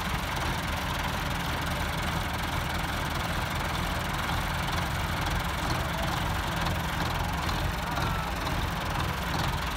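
A 385 tractor engine idles steadily just after starting in a village setting, a continuous low rumble with a slight knocking throb at constant loudness and no talk.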